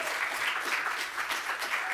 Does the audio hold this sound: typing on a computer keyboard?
no